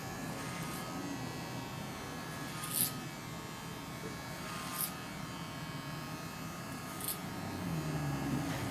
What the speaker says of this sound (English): Start trimming little by little, edges.